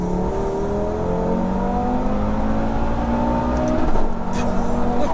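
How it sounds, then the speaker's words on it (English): A modified 685 bhp Audi RS3 with turbocharged engine accelerates hard, turbos spooling up with a steady rising whine over a loud continuous engine roar, heard from inside the car. "it sounds like some mad turbines are winding up"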